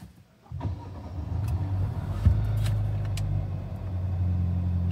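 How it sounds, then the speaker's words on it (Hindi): A Hyundai Alcazar engine cranks and catches after a quiet moment, then settles into a steady, close idle hum with a low droning rumble. "एक बार गाड़ी स्टार्ट करके देख लेते हैं।"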